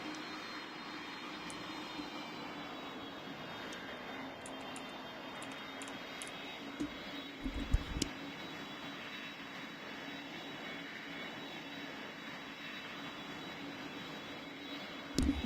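An airplane taxis in the PTFS video game, with a steady, moderately faint engine drone and whine, a few soft clicks and thumps scattered through, and no voices.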